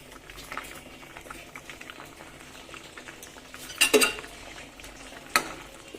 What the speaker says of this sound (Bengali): একটু নাড়াচাড়া করে দিলাম